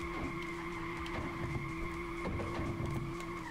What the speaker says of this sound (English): So we'll change into a different car and do the drift so you can see that.